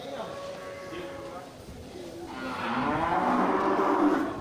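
Aceh cattle, a pen of small males, low mooing calls rise over a busy barnyard background, with someone talking alongside and birds faintly cooing nearby.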